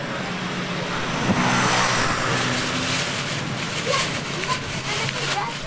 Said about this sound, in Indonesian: Jalanan sempit kayak gini dilewatin mobil.